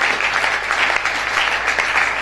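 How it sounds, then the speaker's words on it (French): A church congregation in Kinshasa breaks into steady, dense applause and cheering to welcome the servants of God, filling the space evenly throughout. "on va les accueillir avec des acclamations"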